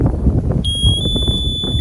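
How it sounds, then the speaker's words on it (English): A Ghost Controls automatic gate opener gives a high-pitched electronic beep that starts abruptly and holds as a steady tone. Low rumbling background noise runs beneath it. "hear the beep"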